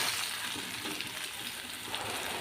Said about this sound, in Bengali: এবারে নুন আর হলুদ দিয়ে আলু আর কাঁচকলাটা কিছুক্ষণ একটু ভেজে নিচ্ছি।